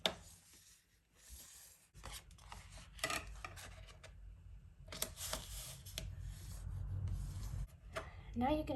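Folded paper card pages for an open book easel card are burnished along their creases, giving soft, intermittent rubbing and scraping strokes close by, with brief pauses between passes.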